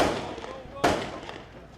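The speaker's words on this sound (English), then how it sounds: "Why is there all this gunfire? Those gunfires are part of outgoing gunfire." Outgoing gunfire in the Gaza war zone: a single sharp distant blast cuts through a reverberant background, with a voice talking around it.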